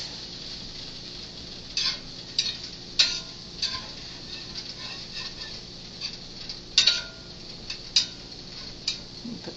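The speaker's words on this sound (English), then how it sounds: "we're gonna stir this around until the beef is browned" Ground beef browning in a pan for a cabbage stir fry is stirred with a utensil, giving irregular light clinks and scrapes over a faint steady background sizzle.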